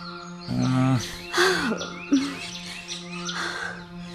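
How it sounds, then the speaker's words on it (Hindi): An Indian koel calls from a tree in a Hindi radio play, with several rising, whistling calls repeated over a sustained, steady background drone. "कोयल आज भी कूक रही है।"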